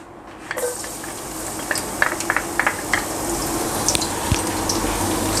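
Crushed garlic drops into hot oil in a wok, setting off a close bubbling sizzle after a brief quiet start, with small crackling pops over a steady hiss.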